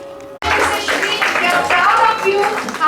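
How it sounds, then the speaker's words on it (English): A school assembly crowd clapping for a student's taekwondo competition win, a dense sustained round of applause starting abruptly and carrying on under a speaking voice. "A huge round of applause, everyone."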